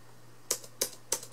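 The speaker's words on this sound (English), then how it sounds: "does the keyboard work?" Several crisp keystrokes on a Dell computer keyboard, typed in quick uneven taps with short pauses between them, fairly quiet and heard alone over a low steady hum.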